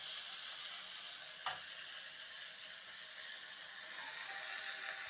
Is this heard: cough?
no